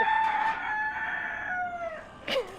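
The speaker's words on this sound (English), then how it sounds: "the damn roosters" A rooster crows once, a long drawn-out call close by that trails off, followed by a brief squawk at the end.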